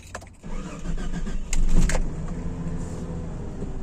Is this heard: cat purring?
no